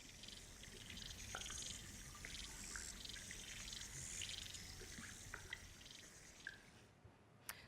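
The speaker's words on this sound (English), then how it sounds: "And aquatic insects also make an incredible diversity of sound in freshwater" Freshwater aquatic insects recorded underwater with a hydrophone: a constant high, fizzing stridulation chorus with scattered ticks and clicks, and a few sharper isolated pops toward the end.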